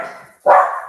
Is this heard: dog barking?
yes